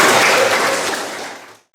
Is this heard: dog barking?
no